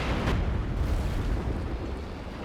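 Scott artillery barrage shells exploding in Company of Heroes 2, a dense continuous low rumble of overlapping blasts with a sharper burst near the start, steady and loud throughout.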